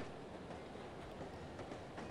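A train rolls along rails in the video game No One Lives Forever, a faint, continuous rumble with a soft clickety-clack of wheels and no voices.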